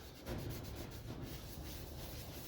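Abrasive is held against a camphor laurel bowl spinning on a wood lathe, giving a steady, close rubbing and sanding hiss with a low rumble of the turning machine underneath.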